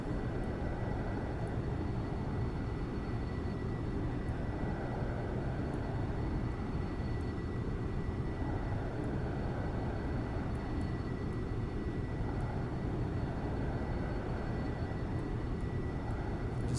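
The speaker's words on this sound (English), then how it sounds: "I got it full on afterburner" Steady, loud roar of an SR-71 jet engine running at full afterburner in the X-Plane 11 flight simulator, a constant broadband rumble with a faint high whine that holds unchanged for the whole stretch, with no talking.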